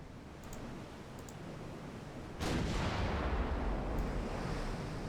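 A 6-inch naval gun salvo in the Ultimate Admiral Dreadnoughts game booms once midway through a steady background rumble, leaving a broad rolling roar over faint earlier clicks.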